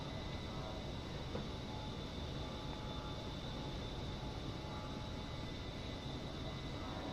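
A single A-10 flying an instrument approach in a flight simulator, heard as a steady, even cockpit drone of jet engine and airflow with no breaks, held at a moderate, unchanging level throughout.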